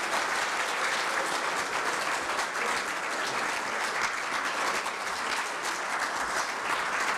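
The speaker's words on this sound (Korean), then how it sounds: "우리 염지호 총장님을 뜨거운 박수로 맞아 주시기 바라겠습니다" A lecture hall audience at a Korea University labor-management forum gives a dense, steady round of applause to welcome the university president, a continuous wash of many hands clapping.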